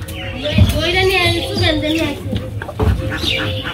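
A broody hen clucks softly in low, drawn-out murmurs up close while people talk over it in a Bangladeshi village.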